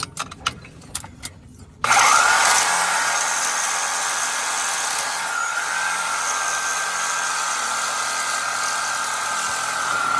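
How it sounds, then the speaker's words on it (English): A Sawzall reciprocating saw cuts off stuck nuts on a Claas 360RC forage harvester intake feed, starting after a few clicks and knocks and then grinding loudly and continuously at close range with a harsh, steady buzz. "I think I gotta Sawzall the nuts off all these"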